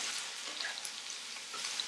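Food sizzles and crackles quietly in a non-stick skillet, a soft continuous frying hiss with small pops and no talking.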